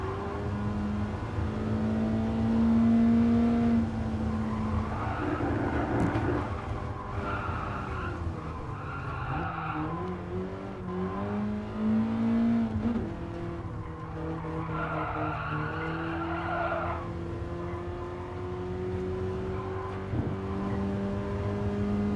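BMW E30 engine in the Gran Turismo Sport racing game, accelerating through gears with repeated pitch climbs and shifts, tires skidding at times, steady and continuous with no talk.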